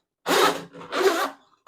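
A drain snake's metal cable being wound back into its plastic canister after clearing a clogged drain, giving two close rubbing, rasping bursts about half a second each with a short pause between, and no talking.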